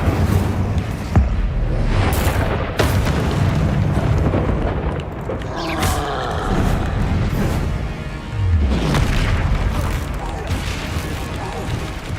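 Fire spells cast in a Hogwarts Legacy duel: loud whooshing, crackling blasts and bursts recur through a dense, continuous stretch of combat noise, with voices shouting spell names over it.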